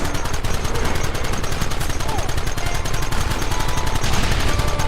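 Dense, continuous gunfire in Red Dead Redemption, rapid overlapping shots forming a loud sustained barrage for the whole stretch, with shouting voices faintly mixed in.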